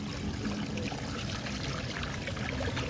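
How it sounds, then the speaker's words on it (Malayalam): Water streaming down an artificial waterfall in an eco park, a steady rushing, splashing flow with no breaks, moderately loud and alone. "ഇവിടെ നല്ലൊരു കിടിലും വെള്ളച്ചാട്ടം പോലെയാണ് ഇവിടെ സെറ്റ് ചെയ്തേക്കുന്നുണ്ടോ"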